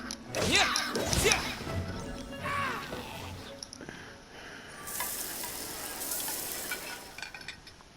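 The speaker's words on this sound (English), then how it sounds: "Let's head back to land and grill them." Fish sizzling on a grill over a fire in Genshin Impact, a crackling frying hiss mixed with swishing game effects and a brighter sizzle burst near the end.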